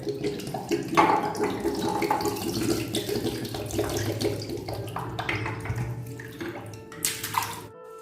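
Tap water runs steadily into plant bottles and jars being refilled for indoor plants kept in water, a close, continuous splashing stream with a few brief clinks and a softer tail at the end.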